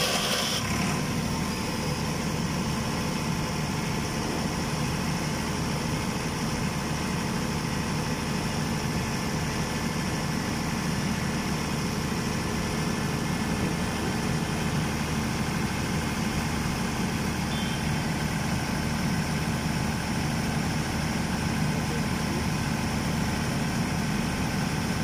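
An FG Wilson diesel generator engine runs steadily, a loud constant low rumble with mechanical whine and vibration, unchanging throughout with no voices.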